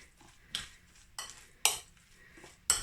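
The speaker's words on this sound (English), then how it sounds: "just want to give it a really good mix so that all pieces of cabbage get covered" Sauerkraut cabbage salad with avocado being mixed in a bowl, four separate clinking scrapes of a utensil against the dish, spaced about half a second apart, close and clear.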